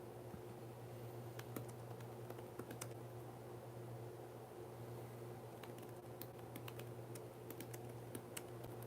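Soft, irregular keystrokes on a computer keyboard patter steadily throughout, fairly faint and close, over a constant low background hum.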